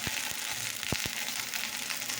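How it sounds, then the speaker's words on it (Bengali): Fried garlic sizzling in a pan, a steady faint crackle with a few soft clicks and taps near the start. "ভাজা রসুন করে দিলাম"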